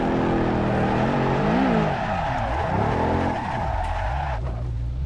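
A car skids into a spin in the racing game Assetto Corsa, featuring an E92 or E30: steady engine drone with long, wavering tire squeals that rise and fall as the car slides, loud and continuous.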